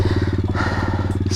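A Honda Grom pit bike engine runs close by, a steady pulsing single-cylinder thrum with an even rapid beat throughout, loud and alone.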